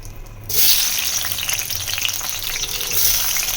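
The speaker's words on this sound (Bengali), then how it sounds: "আবার একটু সর্ষের তেল দিয়ে দিয়েছি কড়াইয়ের মধ্যে, এবার আমি এর মধ্যে মশলাটা কষিয়ে নেব" Spices fry in mustard oil in a wok, a loud, close, continuous sizzle that starts suddenly and holds steady with faint stirring.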